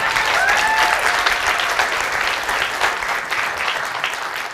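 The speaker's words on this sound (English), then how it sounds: "We weren't expecting so much applause" Sustained, loud applause from a live show audience fills the whole stretch as a dense, even roar of clapping hands, tapering slightly toward the end.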